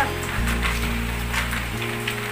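Rain falls steadily in a rural Philippine province, a constant close hiss and patter with a low hum running underneath.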